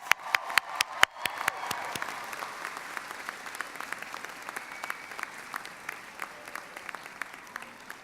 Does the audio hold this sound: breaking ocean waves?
no